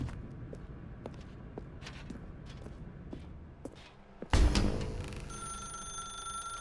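An old bell telephone rings in The Stanley Parable, a loud bright ring bursting in near the end after a stretch of quiet footsteps and faint clicks.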